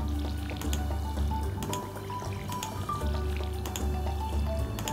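Water splashes and drips from a watering can onto crops in the Stardew Valley farming video game, soft repeated liquid pours over a looping bass-heavy background music track, with no talking.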